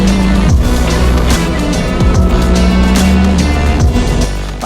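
A rally car with a modern sequential gearbox races at full throttle, its loud engine note holding steady and then dropping abruptly at each quick, precise gear change, several shifts in a few seconds.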